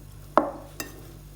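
A spoon mixes chaat masala and chili flakes into a potato filling for samosa or kachori. There are two brief clinks or scrapes against the bowl, close by in a quiet kitchen.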